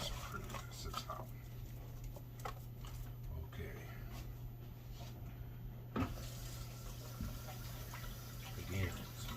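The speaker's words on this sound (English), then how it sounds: "Again, some good hot water will get all them sugars off your hand." Hot water runs from a kitchen tap to rinse sugar off hands after candying a ham, a soft steady patter and trickle under a faint voice, with a few brief splashes and knocks.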